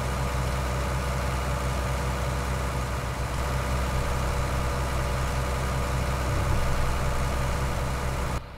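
In Farming Simulator 19, a tractor engine drones steadily while it hauls a heavy load slowly. The low, loud hum stays even and unbroken, with no speech over it.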